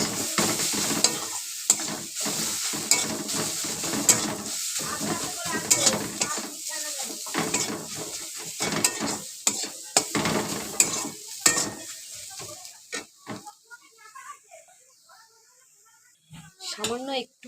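Spice masala with chili powder is stir-fried in a pan, heard as sizzling under repeated scraping and clanking spatula strokes, busy and close, easing off toward the end as a voice speaks.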